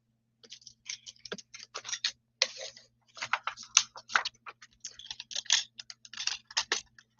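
A die cutting machine cuts blue cardstock with a die, giving a quiet, close series of crisp clicks and scratchy ticks in irregular bursts.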